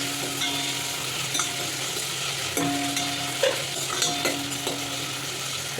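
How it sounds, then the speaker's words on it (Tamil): Onions sauté in a pan for sambar, giving a soft, steady sizzle punctuated by occasional scraping stirs and light clinks of a utensil against the pan, close and fairly quiet. "இப்போது வெங்காயம் நல்லா வதங்கினதுக்கப்புறமா"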